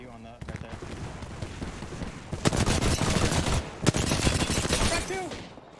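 Rapid bursts of automatic weapon fire in the battle royale shooter Apex Legends, a dense, loud volley of shots that swells into sustained fire before tapering off, with players talking over it.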